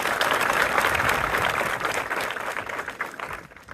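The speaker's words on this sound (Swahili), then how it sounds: "naomba wanafunzi wote tupige makofi" Students at a school event applauding together in a steady, dense round of clapping that holds for several seconds, then thins out and fades.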